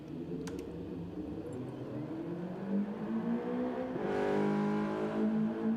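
A race car in a racing video game at the Red Bull Ring revs steadily in a whining engine drone that swells louder toward the end, heard alone at moderate volume.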